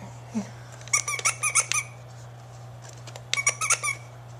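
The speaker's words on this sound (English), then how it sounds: "You wondering how to make it squeak?" A squeaky toy on a baby exersaucer squeaks in two quick bursts of several sharp, high squeaks each, close and clear over a low steady hum.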